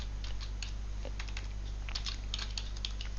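Typing on a computer keyboard: quick irregular key clicks at close range over a low steady hum, no talking.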